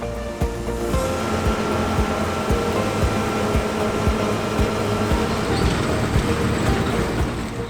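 A John Deere combine harvester runs during an organic corn and soybean harvest, giving a steady loud mechanical drone with a rhythmic low thumping and continuous broadband machinery roar throughout.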